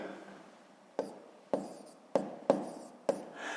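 A pen or chalk writes out a math expression in short, distinct strokes: about five sharp scratchy bursts, each fading quickly, in a quiet room.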